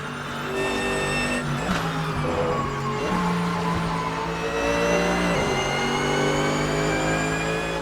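A Porsche LM GT3 race car in the Assetto Corsa racing game revs hard through the gears on the Nordschleife, its engine note climbing and dropping with each shift, loud and close with a steady rumble underneath.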